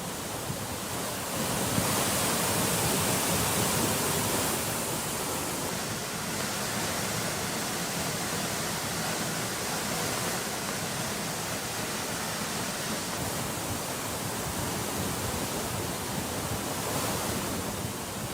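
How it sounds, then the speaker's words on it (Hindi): Mahadev Khoh waterfall swollen by torrential monsoon rain in Uttarakhand, a steady, loud broadband roar of rushing water that holds constant throughout with no voices. "महादेव खो वाटरफॉल का रौद्र रूप यहाँ नजर आया"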